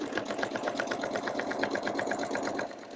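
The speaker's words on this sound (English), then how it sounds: "I'm going to just do a stitch around just to show you how I move the heart under my needle." Sewing machine stitching around a fabric Valentine heart, a fast steady rattle of needle strokes running continuously and close for the whole stretch with no voices.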